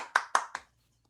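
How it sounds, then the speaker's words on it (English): A few distinct hand claps from people on a video call after a seminar talk, three sharp separate claps over about half a second, then silence. "Let's unmute ourselves and clap, as is customary."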